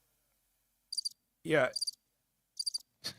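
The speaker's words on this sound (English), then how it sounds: "It was damn crickets." Crickets chirping in short, sharp, high-pitched bursts, three distinct trills with silence between them, and a man's brief spoken word in between.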